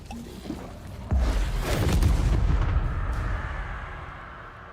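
A spell is cast in Hogwarts Legacy, heard as a sudden heavy whooshing burst that swells into a loud rumbling blast, then slowly fades over a few seconds.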